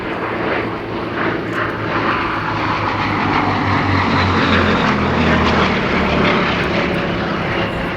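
A Gloster Gladiator biplane flying at the Duxford air show, its propeller-driven piston engine giving a loud continuous drone that holds steady throughout without a break.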